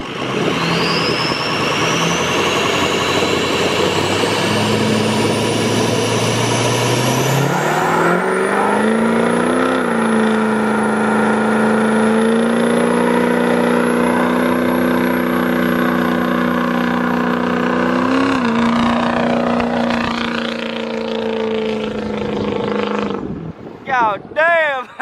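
Ford 6.0 Powerstroke diesel pickup truck revs loudly close by, its engine tone climbing and holding with a high, shrill turbo whistle above the roar, then dropping off to a few sharp blips at the end; voices speak over it.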